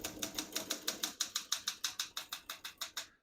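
Olympia SM9 portable manual typewriter from 1970 typing at a steady pace, with about fifteen crisp, close key strikes in an even rhythm and no voices.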